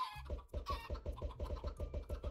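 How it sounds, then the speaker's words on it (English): A flock of Minecraft chickens clucks in rapid, overlapping bursts, a busy continuous chorus of short, regularly pulsing clucks at moderate volume with no talk. "just spawning a whole bunch of chickens"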